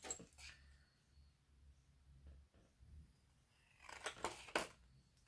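Scissors cut a paper film strip out of papercraft stock for a junk journal notebook. One quick snip comes early, then a cluster of close, crisp snips follows near the end, all quiet, with no talking.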